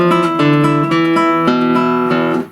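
Short guitar passage of several smoothly connected plucked notes with ringing harmonics, played alone, close and clear, each note flowing into the next without gaps.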